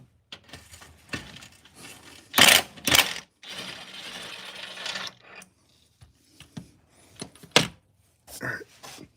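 A bolt holding the transmission tray on a 2007–2010 BMW M6 is loosened with a ratchet, giving bursts of rapid clicking, metallic clanks and knocks in irregular spurts, close and fairly loud, with silent gaps between.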